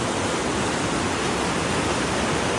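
The Nile runs very high at the barrages in Egypt, its water rushing in a dense, continuous roar without pause, loud and close, with no voices.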